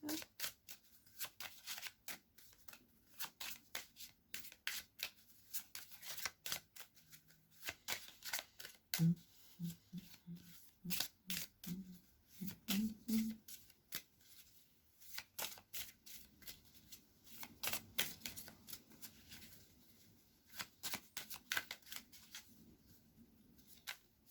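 Oracle cards shuffled by hand in a long, continuous run of quick, crisp flicks and slaps, close and steady for well over twenty seconds, with no voice over it.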